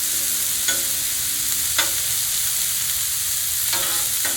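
Peppers and onions fry on a Blackstone griddle with a steady, bright hiss up close, broken by a few sharp scrapes as they are stirred and spread across the hot surface.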